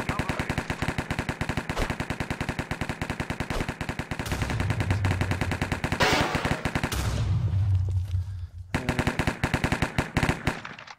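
Rapid automatic gunfire in a Minecraft Hypixel game, a loud, dense stream of evenly spaced shots with a short pause and a burst of heavier fire, then steady rattling again; no talk.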